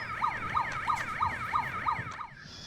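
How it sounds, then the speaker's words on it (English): A rapid yelping emergency siren wails in a repeating up-down pattern, moderately loud, then cuts off abruptly near the end. "Just turn the fucking siren off."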